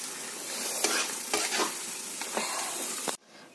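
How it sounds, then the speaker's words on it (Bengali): Cooked mustard greens (saag) with raw mustard oil stirred in a pan, several scraping strokes over a soft sizzle, close and moderately quiet, ending abruptly. "দিয়ে দিলাম একটুখানি শাকের মধ্যে কাঁচা সরষের তেল, এবার মিশিয়ে দেবো, নামিয়ে নেব।"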